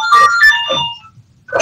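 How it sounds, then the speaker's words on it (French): Mobile phone ringtone going off during a talk, a short melodic electronic tune of a few rising and falling tones, close and fairly loud, with a pause before it starts again. "Ah, il y a mon téléphone."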